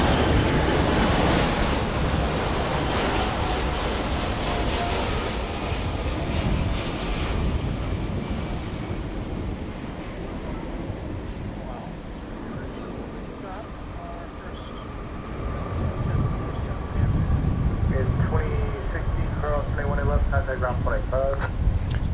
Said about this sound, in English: we've got our first 747 of the afternoon